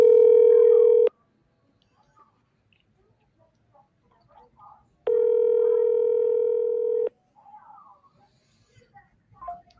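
A telephone call to Ohio rings out with two long, loud ringback tones about four seconds apart. Faint background noises fill the gaps between them.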